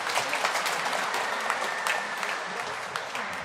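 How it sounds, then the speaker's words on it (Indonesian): Applause from a congregation inside a church during a Pentecost Mass, steady dense clapping filling the whole stretch, fairly loud and close, with no voices over it. "Kita kasih tepuk tangan dulu."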